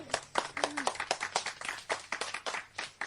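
One man clapping his hands in a steady run of sharp claps, roughly three or four per second, close and fairly loud, with a faint voice briefly underneath.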